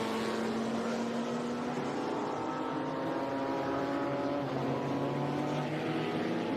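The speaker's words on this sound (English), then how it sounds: "the four-rotor Mazda Wankel engine. Very distinctive sound." A Mazda four-rotor Wankel-engined race car, the 792P, at a historic race at Laguna Seca gives a steady, buzzing engine drone with a sustained pitch that shifts slightly, heard from a moderate distance without talk.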